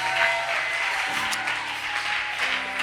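A church congregation claps and cheers in acclaim of Jesus, a dense and lively burst of applause that is sustained throughout, with voices mixed into the crowd noise.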